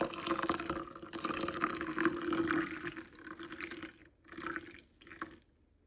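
Liquid pours steadily into a mixture during kitchen preparation, a continuous splashing stream that tapers off and breaks into a couple of short final trickles.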